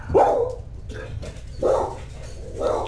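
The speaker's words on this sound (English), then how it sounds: "Guest appearance from Lucy the dog, folks" A pet dog barks three times at home, short, fairly loud, close barks spaced about a second and a half apart, with no talk over them.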